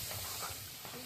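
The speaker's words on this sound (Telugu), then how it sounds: "ఇలా నూనె పోసుకుంటూ తిప్పుకుంటూ ఉండాలండి, ఆపకూడదు." Hot oil goes into a thickening Mysore pak mixture while it is stirred in a village-style home kitchen, giving a brief, steady sizzling hiss with soft scraping underneath, close and fairly quiet.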